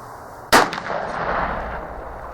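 A single loud, sharp report from a T/C Impact muzzleloader rifle loaded with a 100-grain powder charge, fired nearby outdoors and followed by a long, rolling echo that slowly fades.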